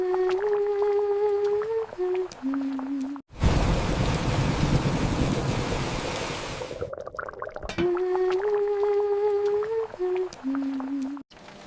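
Heavy rain falls outside a house, a dense, loud, steady hiss that comes in for several seconds between gentle tonal music passages.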